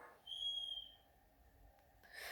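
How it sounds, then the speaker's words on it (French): A short, bright high-pitched whistle blast sounds alone in a quiet room, followed by a faint breathy noise. "si t'entends des coups de sifflet, c'est mon fils"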